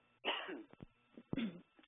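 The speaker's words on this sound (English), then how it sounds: "I'm going to clear my throat, and then we'll get started." A man clears his throat twice, one longer rasping clearance followed by a shorter one, close to a telephone-quality microphone with nothing else audible.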